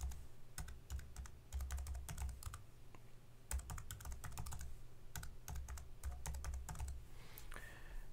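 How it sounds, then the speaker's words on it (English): Fingers type a password on a computer keyboard in quick bursts of close, crisp key clicks, with short pauses between runs and a faint room hum underneath. "So let's type in a password."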